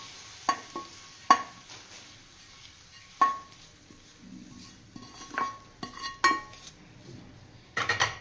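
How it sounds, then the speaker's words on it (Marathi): A spoon scrapes and clinks against a pan while wet coconut and jaggery filling is scooped into a bowl, giving scattered sharp metallic taps and soft scraping at close range over a quiet background. "हे आपलं सारण रेडी झालंय. ते आता मी एका वाटीत काढून घेते."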